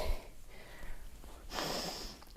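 A deep breath in and out during a morning exercise routine, heard close: a breathy inhale followed by a longer, louder, airy exhale.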